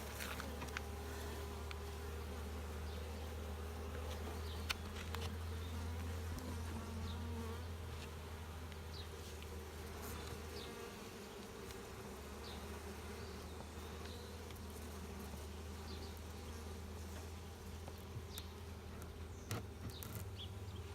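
Dense, steady buzzing of many honeybees in an opened hive fills the air close up, a continuous low drone with occasional individual insects passing nearby.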